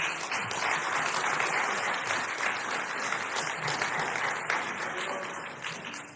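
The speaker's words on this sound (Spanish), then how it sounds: "Denle un aplauso" A church congregation applauding: sustained, dense clapping from many hands, moderately loud and even, with some voices mixed in and a slight tapering near the end.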